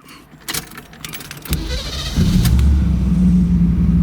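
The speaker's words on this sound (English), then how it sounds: "just a lovely sort of V8 sound that immediately emanates from under the hood" A Pontiac Trans Am V8 cranks after a few clicks and rattles, then catches and settles into a loud, deep, steady idle rumble, close up with no talk.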